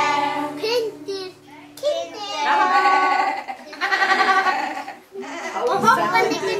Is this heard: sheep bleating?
yes